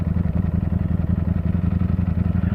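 A Ducati Panigale V4 motorcycle engine thrums while being ridden, a loud, close, rapid pulsing rumble with steady rhythm throughout.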